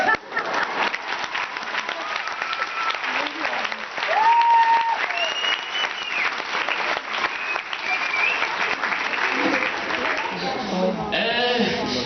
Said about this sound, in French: Charludon, applaudissez pendant que je regarde mon texte, s'il vous plaît.